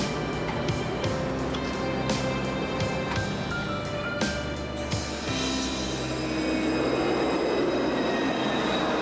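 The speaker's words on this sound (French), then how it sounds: "Le train entre en gare, éloignez-vous de la bordure du quai, s'il vous plaît." A train pulls into a station platform, its rumble and clattering wheels building steadily with metallic squeals and knocks, loud and close, with no voices over it.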